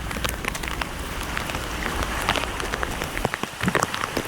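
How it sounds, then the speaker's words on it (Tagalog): Rain falling outdoors in a fishing area, a dense steady patter of drops on surfaces, close and fairly loud, with no voices. "O ayan, umulan na naman mga kabatak."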